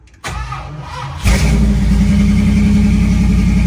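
A big block Mopar V8 fitted with Holley Sniper EFI cranks briefly with a rhythmic starter whir, then catches and settles into a loud, steady, rich-sounding idle close by.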